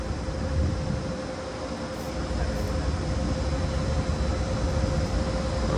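At Budapest-Kelenföld station in Hungary, a passenger coach train of second-class cars gives a steady, loud rumble with a faint high whine, rolling continuously and close by.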